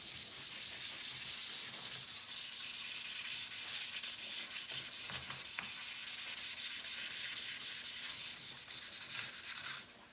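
Wooden furniture finished in chalk paint is sanded by hand, giving steady, close rasping strokes that repeat in a continuous rhythm for about ten seconds before stopping abruptly.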